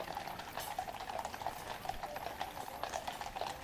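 Household Cavalry horses' hooves clip-clop steadily on the road as the mounted formation passes close by, a brisk continuous rhythm of hoof strikes with outdoor bustle underneath.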